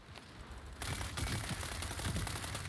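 M416 rifle fire in the video game World War 3, a rapid burst of dense automatic shots that starts abruptly and keeps rattling until the end.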